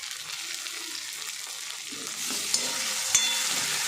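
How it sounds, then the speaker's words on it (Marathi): Tomatoes fry with sautéed onion in a pan, a soft continuous sizzle with a few sharp clicks of a spoon stirring against the pan. "कांदा चांगला परतून आलेला आहे तर आता याच्यामध्ये मी टमाटर टाकून घेते"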